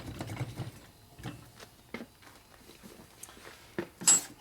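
An engine sleeve for a 1979 Harley shovelhead 80ci motor being tapped lightly into its bore while it is jiggled, producing scattered soft metallic taps and knocks, close and fairly quiet, with a sharper clink near the end.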